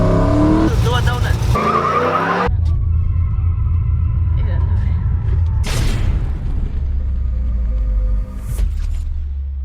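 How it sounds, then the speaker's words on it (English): A Ford Lightning pickup truck does a donut, a loud rumbling engine with tires skidding and squealing, after people talk over the engine noise at the start. "Do a donut."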